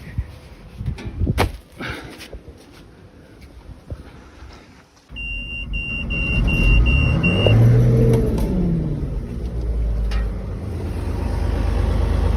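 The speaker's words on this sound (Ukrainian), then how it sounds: "Просто шепче цим мотором." A John Deere 1055 combine harvester engine starts up and runs steadily with a low, smooth hum, close by and fairly loud, after a few seconds of quieter handling noises.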